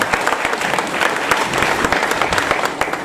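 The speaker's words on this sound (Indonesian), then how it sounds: "Tepuk tangan dulu buat laporan." Loud, dense applause from a crowd at an Indonesian government aid handover event in Badung, Bali, with sustained clapping throughout.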